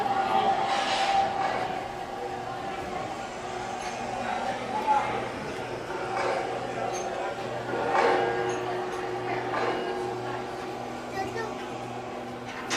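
A 1929-designed train exhibit at the Franklin Institute in Philadelphia runs with a steady mechanical rumble and rhythmic clatter, while people talk nearby.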